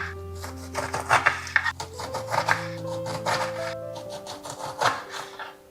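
A knife shaves the spiky skin off a pineapple with repeated close rasping, scraping strokes in an uneven rhythm, over a faint steady background hum.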